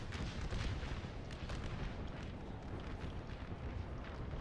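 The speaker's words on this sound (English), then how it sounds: "But the artillery for 14th is really doing well." Artillery fire in the video game Total War: Napoleon with an American Civil War mod: dense, continuous rumbling cannon booms and overlapping gunfire bursts that fill the battlefield at steady loudness, with no talk over them.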